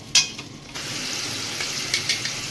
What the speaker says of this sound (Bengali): দইটা দিয়ে বন্ধুরা আমি একটু নাড়াচাড়া করি।